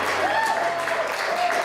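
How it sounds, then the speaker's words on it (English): Wedding guests at a reception in Eastchester, New York applaud in a brief, steady wash of clapping, with a faint tonal sound running underneath. "Give a big round of applause"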